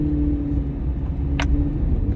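A Corvette C8 Z06 engine rumbles steadily in a tunnel, a low droning roar with a brief sharp hiss midway, no talking.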